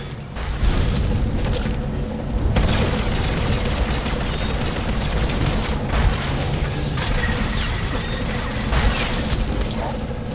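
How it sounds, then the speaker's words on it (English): In SWTOR gameplay, an explosive destructible barrel blows up amid dense battle noise, with booming blasts and rattling gunfire layered over a constant loud din of combat. "So that was a destructible barrel. That one was explosive"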